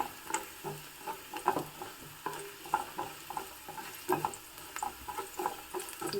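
Garlic sizzling and crackling in hot oil for harive soppina karagali, with irregular stirring scrapes and pops at a soft, moderate distance.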